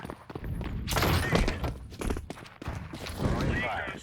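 An incendiary grenade thrown in a shooter video game, with thuds and a bursting, crackling whoosh amid busy game noise and a voice talking.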